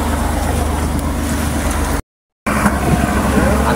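A motorboat engine drones loudly and steadily as the boat heads back out to sea, cut by a brief silent gap before the same running noise resumes.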